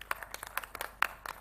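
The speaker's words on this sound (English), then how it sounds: "Can I have a round of applause for him, please?" A few scattered hand claps break out from an audience at a railway convention's closing address: sharp, irregular, fairly close slaps that stay thin rather than building into full applause, with no talking.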